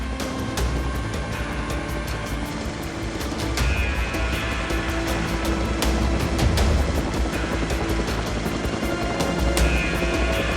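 Steady thudding rotor drone of a French Navy rescue helicopter flying nearby over the ocean, loud and continuous throughout with a low rumbling undertone.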